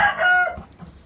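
Backyard chickens, young birds hatched this fall, letting out a loud squawk followed by a few quieter low clucks, close by and alone.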